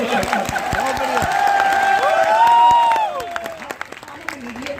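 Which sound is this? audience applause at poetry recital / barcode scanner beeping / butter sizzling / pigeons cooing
audience applause at poetry recital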